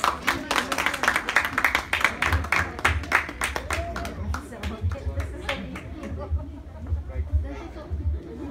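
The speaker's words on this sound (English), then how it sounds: "let's give her a warm round of applause" Audience at a debutante's 18th birthday debut clapping in a warm round of applause, dense and close at first, then thinning and tapering off, with crowd chatter mixed underneath.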